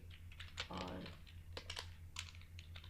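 Keystrokes on a computer keyboard as PHP code is typed, a quick scatter of soft, close clicks in uneven bursts over a steady low hum, with a brief voiced sound partway through.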